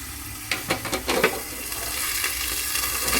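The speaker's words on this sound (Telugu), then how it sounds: "ఇదిగోండి ఇలా ప్లేట్ మీద వాటర్ వేసాం కదా, అలా అలా ఉడుకుతూ ఉంటాయండి" Tapala chakkalu, a rice dough snack, cooking on a plate with water added, giving a soft continuous sizzle with a few brief stirring scrapes near the start, close and alone.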